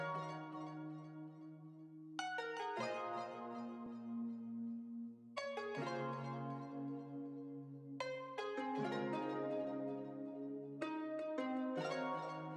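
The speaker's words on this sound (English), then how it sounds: "I copied the keys chords into this ethnic type of like bell sort of sound, maybe like a vintage keys" Vintage keys sample with an ethnic, bell-like tone playing sustained chords, each new chord striking with a bright attack and ringing out in a slow, steady progression, clean and alone.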